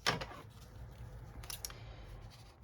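Scissors snip through thin paper sheets for a journal booklet, a sharp close cut at the start followed by soft rustling and a few light crisp snips, quiet and without talking.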